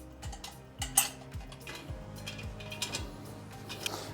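Metal nuts being threaded by hand onto the fender arms of a Mooncool MC 350 tricycle, giving light clinks and small scraping rattles, close and fairly quiet.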